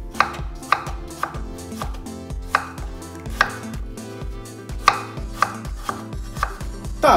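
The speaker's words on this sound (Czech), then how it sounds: "A nakrájíme na malý kousky." Knife chopping a peeled apple into small pieces on a cutting board, a steady series of sharp, close, evenly spaced knocks with a few louder blade strikes, no talking.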